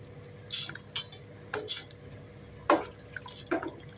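A spoon stirs tamarind into masala for a lady fish curry, with a series of wet clinks and scrapes against the pot at irregular intervals over a low background hum.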